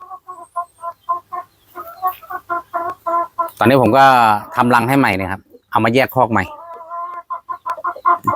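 Light Sussex hens give repeated short, clear clucks close by, with someone talking over them through the middle of the stretch.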